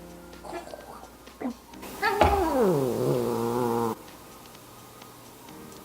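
A kitten lets out one long, drawn-out meow with a falling pitch, loud and close. It is preceded by a couple of short chirpy squeaks and some faint rustling.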